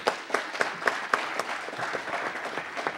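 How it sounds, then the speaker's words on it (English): A city council meeting audience claps for honored students in a moderate round of applause, individual sharp claps standing out across three seconds, with no talking. "Everyone, please give them a round of applause again."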